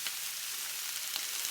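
Scrambled omelette cooks quietly in a pan, giving a soft, even hiss throughout with a couple of faint pops.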